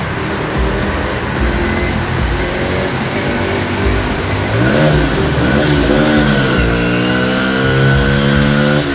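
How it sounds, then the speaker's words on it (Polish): A Romet SCMB 250 fuel-injected motorcycle engine revs inside a tunnel, its echoing note rising and falling in several pulls that swell louder toward the end, steady and close throughout with no voices. "Mój ulubiony tunel, w którym czasami uda się nawet zarejestrować w sposób wyraźny brzmienie tego silnika."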